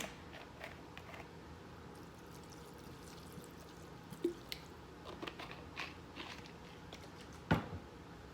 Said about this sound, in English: What we're gonna do is we're gonna add our white vinegar.